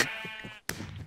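Sheep bleating in a Red versus Blue sheep-carrying video game, two short bleats separated by a brief gap, close and clear with no talk.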